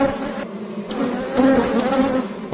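Honeybees at a beekeeping fair in the Sierra de Cádiz, Andalusia, buzz steadily and close by, the droning hum swelling slightly at times with no talking.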